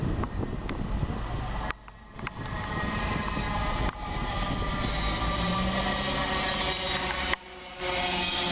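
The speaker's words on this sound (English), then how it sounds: "Next in is 700 125, working the 1130 Govia Thameslink service from Bedford to Brighton" A Govia Thameslink Class 700 electric train on the Bedford to Brighton service rumbles steadily into Flitwick station, a loud continuous roar broken by a few abrupt dips and shifts as it passes close by.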